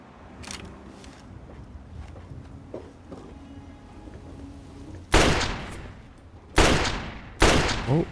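Three loud, sharp bursts of gunfire from the Fallout 3 wasteland, each with a ringing tail, break out after a stretch of quiet ambient movement and faint footsteps.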